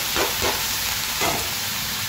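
Bottle gourd (lau bhaji) sizzles and fries in a hot pan with ginger and garlic paste, a steady close hiss with a few soft stirring swells.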